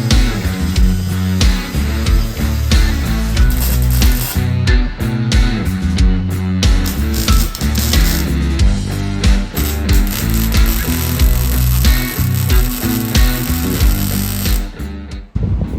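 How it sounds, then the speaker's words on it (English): Small pieces of steel being cut for a go-kart frame make a loud, continuous, busy clatter of power-tool noise with a chattering rhythm that runs unbroken for the whole stretch. "just cut some little pieces of steel for the ends so we can weld it onto the frame"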